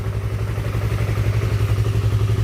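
A Honda CB150R motorcycle with a weak battery runs after an electric start, its engine giving a close, steady, rapid chugging throb that continues throughout.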